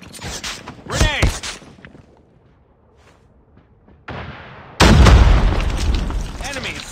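A grenade blows up in a Call of Duty video game with a heavy, booming blast and a long rumbling tail, after earlier sharp gunfire, a near-silent pause and some voices.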